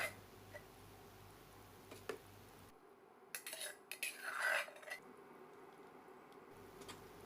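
A utensil scrapes and clinks against a pot in a few irregular knocks while canned fish and pounded curry paste are stirred together, fairly quiet and close, with no speech.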